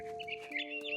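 Mama bird in the video game What Remains of Edith Finch, a short bright chirping call with clucking, rooster-like warbles over a sustained tonal bed, close and steady for about a second.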